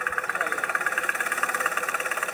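A small two-cylinder engine in a brommobiel microcar runs close by at a steady idle, with a quick, regular pulsing chug and a buzzy, rattling tone.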